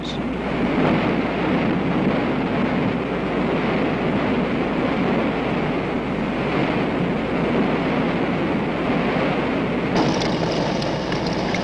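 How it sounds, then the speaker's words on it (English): Hurricane winds and driving rain roar as a steady, loud broadband rush with no pauses. A brighter hiss of heavier rain or gusts rises near the end, and no one speaks. "By nightfall, winds have turned to driving rains."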